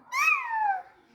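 A person imitates a cat with a single drawn-out meow, clear and close, falling in pitch at the end.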